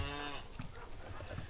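Cattle in a farm shed, bulls kept indoors: a short low moo at the start, followed by faint shuffling and soft animal noises nearby.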